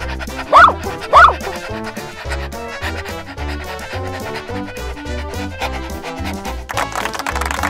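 A dog gives two quick, loud barks near the start, then music-like tones carry on at a moderate level through the rest, with no clear further barking.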